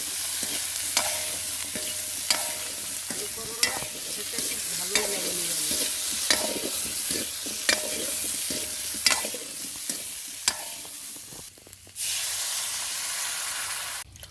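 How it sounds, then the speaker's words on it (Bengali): Potatoes fry in a village-kitchen pan with a constant sizzle, and a spoon stirs and scrapes them in regular, clattering strokes, close and clear with no talk. "আলুটাকে কিছু সময় জ্বালায় নেব"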